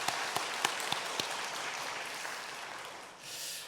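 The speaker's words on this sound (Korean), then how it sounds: "박수로 환영하도록 하겠습니다." A Korean church congregation claps to welcome newly registered members, a steady roomy applause with a few distinct louder claps early on, fading out near the end.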